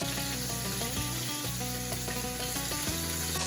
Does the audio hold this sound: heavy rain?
no